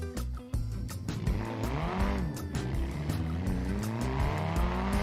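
Car tires squealing under trail braking in BeamNG, a loud sustained tire squeal over a revving engine whose pitch rises and falls as the car slides through a corner, with no talking.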